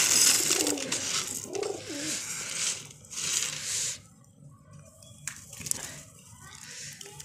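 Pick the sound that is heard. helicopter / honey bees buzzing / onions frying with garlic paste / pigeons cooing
pigeons cooing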